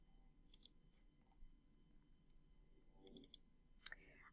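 Quiet computer mouse clicks in a calm room: a double click early, a quick cluster of three or four clicks later, and one sharp click near the end.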